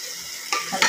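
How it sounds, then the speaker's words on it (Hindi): Bhindi chicken is stirred with a spoon in a pan over a soft sizzle, with two quick scraping strokes of the spoon against the pan standing out close by. "इस तरह से हम चम्मच चलाएंगे"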